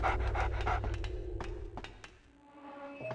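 A dog in the video game Haunting Ground pants in quick, steady breaths that fade out after a few seconds, close and alone with no talk.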